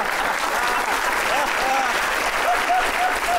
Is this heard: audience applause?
yes